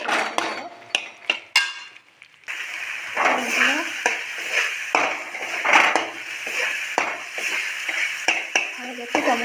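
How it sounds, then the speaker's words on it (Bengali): Spice paste and tomato fry in oil with a steady sizzle, punctuated by repeated scraping and clattering as a spoon stirs the pan up close. "মশলা ভালো করে ভাজতে হবে"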